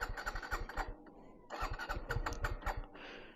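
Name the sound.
Suzuki Gixxer 150 FI motorcycle engine start attempt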